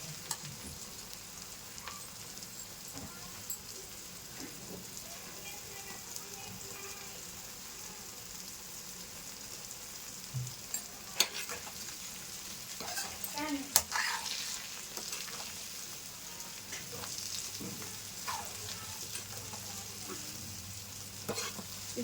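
Restaurant-style chicken pakodi frying in oil makes a continuous soft crackling sizzle with occasional sharper pops and stirring scrapes, fairly quiet, with faint speech in the background.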